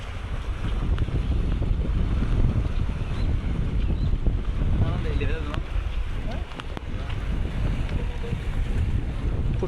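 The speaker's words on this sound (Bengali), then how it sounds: "প্রচুর বাতাস আছে।" Strong wind buffets the microphone on the Karnaphuli river at Kalurghat bridge, a loud, constant rushing roar mixed with choppy water, and a voice is faintly present beneath it.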